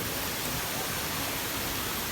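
Chatwarin waterfall in Sungai Padi, Narathiwat, gives a steady, even rushing roar of falling water, dense and unbroken throughout, with no voices.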